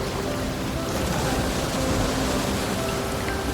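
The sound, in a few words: ocean waves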